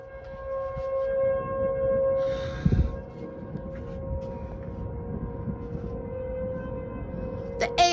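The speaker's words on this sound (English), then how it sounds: "We've got sirens going off. The ASC T128 is going off." ASC T128 outdoor tornado warning siren wailing as a steady, faint-to-moderate tone in the distance, with a brief gust or rumble midway and outdoor background noise.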